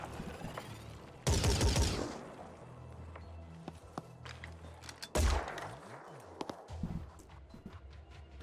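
Pistol shots fired in the turn-based tactics game Phoenix Point, sounding as two loud, sharp bursts a few seconds apart over a low game ambience with scattered clicks and thuds, no talk.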